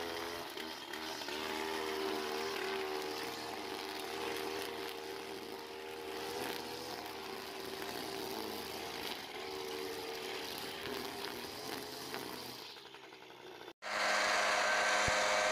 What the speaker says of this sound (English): Very light blower, TMC, Kawasaki engine.